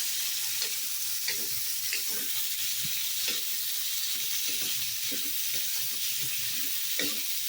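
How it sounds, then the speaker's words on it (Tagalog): Pork sautéed with chayote and carrot is stirred in a pan, a steady low sizzle under repeated scraping strokes of the spoon at an even, unhurried rhythm, close by and with no talk. "Haluin na natin mga palalab."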